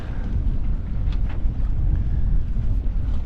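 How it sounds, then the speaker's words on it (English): Cold, blustery wind buffets a sailboat heading out through Winyah Bay Inlet toward the Atlantic, a steady loud rushing roar that carries on without a break. "it's a cold, blustery day"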